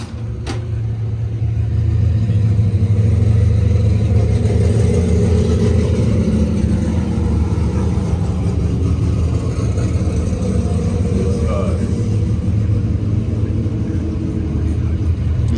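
Subaru WRX engine running steadily out on a race track, a loud, continuous low rumble with sustained revving that holds near and even throughout, with no speech over it.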